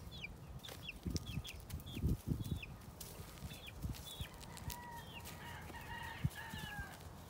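Farmyard hens cluck and call in repeated short bursts, with a rooster-like crowing note and scratchy rustling beneath, close and moderately loud with no talking.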